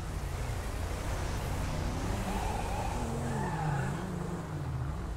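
A car spins its tires in the video game GTA 5, a continuous engine roar with wavering tire squeal, steady and fairly loud, no talking.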